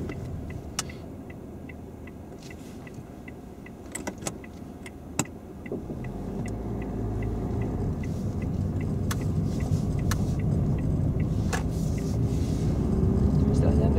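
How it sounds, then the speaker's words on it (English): Small 1.6-litre car driving, a low interior engine and road rumble that grows steadily louder, with occasional clicks and rattles and people talking inside the cabin. "It's a nice little car, actually. It drives really well."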